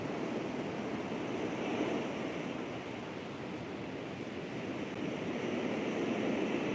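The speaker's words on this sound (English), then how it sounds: "We're listening to the ocean sounds soothe our body and mind." Steady ocean surf washes continuously at a moderate, distant level, a broad even rush with gentle swells and no voices.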